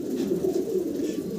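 A male pigeon, one of several running pigeons offered for sale, coos close by with a steady, low, throaty rolling call that fills the whole moment, with no talk over it.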